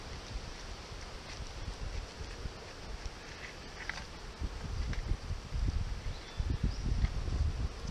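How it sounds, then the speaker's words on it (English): Steady outdoor wind rumbling and gusting in the Pilliga Scrub, growing stronger toward the end, with faint rustling in the background and no voices. "It's windy as here too."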